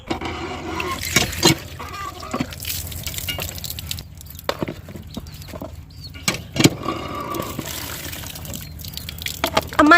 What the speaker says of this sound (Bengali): ধুয়ে ফেলি, হ্যাঁ